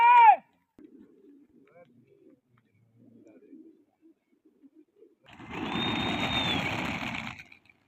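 Soft, low pigeon coos come in quiet bursts, followed by a louder, buzzing mechanical drone.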